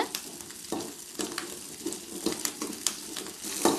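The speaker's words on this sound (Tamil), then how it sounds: "ஒரு 7-8 பல்லு பூண்டு, கருவேப்பிலை கொஞ்சம் எல்லாத்தையும் போட்டு நல்லா தாளித்து விடுங்க." Garlic cloves and curry leaves tempering in hot oil in a pan, a steady sizzle and crackle with soft spoon stirring and a few sharper pops, close and moderately loud, no voices.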